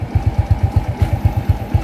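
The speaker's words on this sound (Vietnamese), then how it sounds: "đây xe đang nổ máy nha các bạn" A Honda Wave ZX motorcycle engine idles close by, its steady low thumping pulses repeating in an even rapid rhythm with no voices over it.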